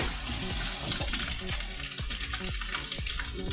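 Tap water runs over food in a sink while making tofu, a steady close splashing gush with a rhythmic series of soft knocks and clatters beneath it.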